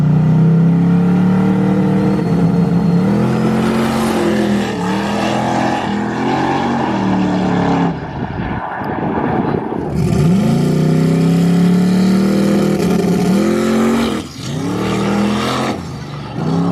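Drag race car on test-and-tune passes, a loud sustained engine roar climbing through gears with brief drops between shifts, then lifting off and easing down before building again, heard from nearby without talk.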